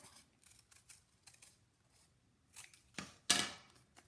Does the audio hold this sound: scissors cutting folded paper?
yes